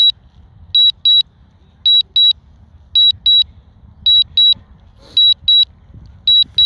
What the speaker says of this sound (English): I apologize for that beeping noise.